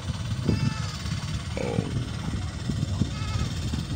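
Goats bleating on a farm, a few short calls heard near and far over outdoor background noise, with a brief spoken exclamation.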